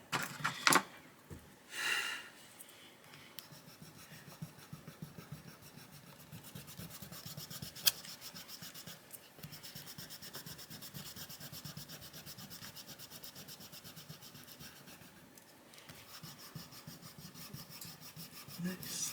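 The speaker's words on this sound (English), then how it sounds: "I'm going to have to erase it." An eraser rubs out crayon and pastel on a paper colouring postcard, a steady scratchy back-and-forth rasp running almost continuously at close range, with a couple of short pauses and no talking.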